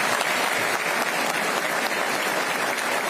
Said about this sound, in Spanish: Frente a este Congreso, le decimos gracias y le aplaudimos